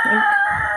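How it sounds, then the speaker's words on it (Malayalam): A neighbour's rooster crows loudly and close by, a single sustained cock-a-doodle-doo with no other sounds around it. "നമ്മളെ വീടിൻ്റെ അപ്പുറത്തെ വീട്ടിലെ കോഴിക്കളാണ് കേട്ടോ"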